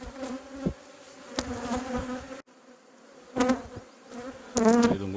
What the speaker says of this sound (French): regardez-moi ce magnifique essaim